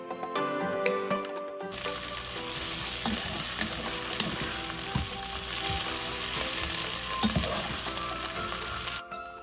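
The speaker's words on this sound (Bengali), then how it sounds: "মিডিয়াম টু হাই হিটে পেঁয়াজগুলোকে লাইট গোল্ডেন ব্রাউন করে ফ্রাই করে নিচ্ছি।" Sliced onions fry over medium to high heat in a pan, giving a loud, continuous sizzle with occasional stirring scrapes, close up and without talk, ending abruptly.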